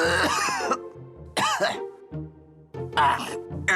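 Several harsh coughs and throat-clearing bursts in short clusters, loud and close, with pauses between them.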